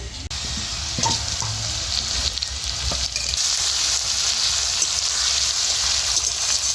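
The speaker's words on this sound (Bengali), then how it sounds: "আদা রসুনটা একটু ভেজে নিয়ে" Ginger garlic paste frying in hot oil in a pan for a fish curry, a dense continuous sizzle at close range with a few faint clinks, no voices.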